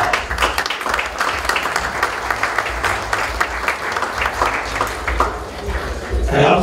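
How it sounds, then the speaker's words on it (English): Guests at a foundation gala dinner give a warm, continuous round of applause, many hands clapping at moderate distance with crisp individual claps poking through and a swell near the end. "Give them a big round of applause."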